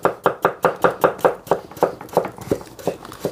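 A knife chops potatoes on a cutting board, about fourteen steady, even strokes close up with no talk, for fried potatoes.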